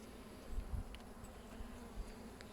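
Honey bees buzz at an open hive in a low, steady hum, with soft handling noises around the frame.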